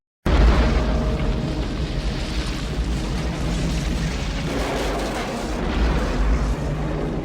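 A ship blowing up in a film scene, the oil tanker Exxon Valdez sinking in Waterworld, gives a sustained, loud, rumbling roar of explosion and fire that carries steadily for several seconds with no voices.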